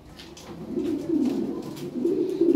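Lahore pigeons cooing close by in a steady, continuous low murmur that swells and fades over a few seconds, with several birds overlapping and no talk.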